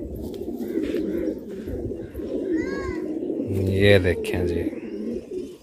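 Fighting pigeons from a set of about sixty birds coo in deep, throaty bursts, near and clear, while someone speaks briefly and children's voices chatter in the background.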